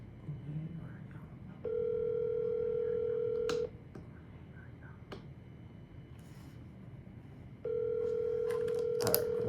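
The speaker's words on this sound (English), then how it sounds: "Alright, I'm gonna try calling back on my cell phone number." Ringback tone heard while calling a cell phone number: two long, steady electronic tones about two seconds each, separated by several seconds of quiet line hiss with faint clicks, clear and close on the line.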